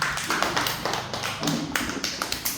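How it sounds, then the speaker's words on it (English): Children in a classroom shape activity clapping their hands, a quick run of sharp, uneven claps repeated close by over a couple of seconds, with faint voices in the background. "Clap hands."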